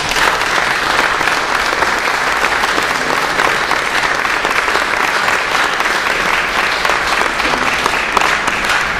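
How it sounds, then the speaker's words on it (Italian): Sustained applause from a large crowd, steady and dense clapping without a break from start to finish. "Vi prego di fare un applauso per questo."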